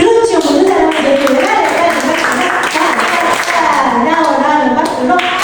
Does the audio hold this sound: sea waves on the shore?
no